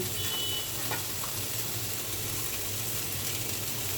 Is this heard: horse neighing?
no